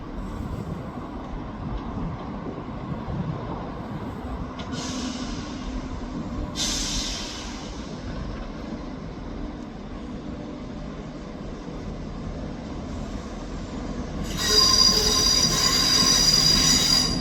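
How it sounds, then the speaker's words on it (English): A Scotrail train pulls into Dundee station with a low rumble of rolling stock, then high-pitched wheel squeals come in separate bursts and one sustained shriek near the end. "Arriving in now is the 12:22 Scotrail service terminating here at Dundee from Edinburgh Waverley."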